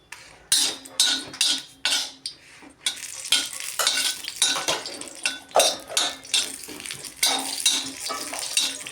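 Dried red chillies fry in a spoonful of oil in a pan for a chutney, with brisk rhythmic stirring scrapes and clinks over a steady close sizzle.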